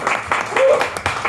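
Applause from an audience fills the room, steady and moderately loud, with a voice speaking over the clapping.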